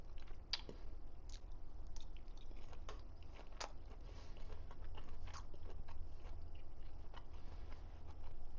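Close, wet chewing of scrambled eggs with meaty wild-caught shrimp: soft, irregular bites and squishy mastication repeat steadily for several seconds with no talking.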